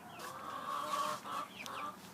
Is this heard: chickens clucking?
yes